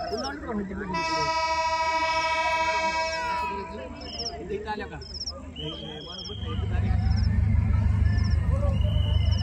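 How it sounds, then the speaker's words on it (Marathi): The Beed-Ahilyanagar passenger train sounds a long, loud horn blast as it approaches and then rumbles past heavily at close range, while a voice talks over it. "तो हॉर्न वाजवत बीड अहिल्यानगर रेल्वे अहिल्यानगरकडे जात आहे"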